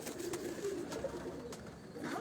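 Domestic flying pigeons kept by a fancier in Dharampura, Lahore, coo softly in low, rolling tones. The calls are close and overlapping, with a faint background hiss.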